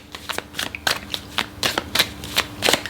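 A deck of tarot cards is shuffled and drawn close up, with quick crisp riffling slaps in an uneven rhythm over a short span.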